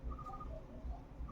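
Soft, low cooing of pigeons in a loft, several gentle throaty coos overlapping at close range, faint and calm with no one talking.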